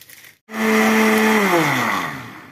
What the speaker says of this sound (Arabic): هضرب البيض وارجع لكم تاني